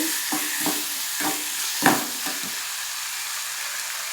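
Ginger sautéing in a pan for a tomato-onion chutney, a steady bright sizzle with a few scrapes and clacks of a stirring spoon, one louder knock near the middle.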